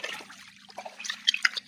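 Water flowing by gravity through a freshly dug artificial channel, a soft close trickle with small drips and splashes.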